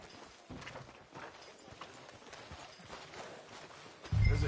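Horse hooves clip-clopping at a walking pace in Red Dead Redemption 2, a steady, fairly quiet rhythm of soft hoofbeats that runs throughout, with a louder thump right at the end.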